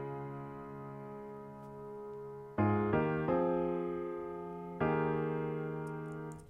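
A short passing-chord transition rings out on a keyboard, with a sustained chord followed by several clear new chords struck in succession, each decaying slowly, all at a moderate level with no talking.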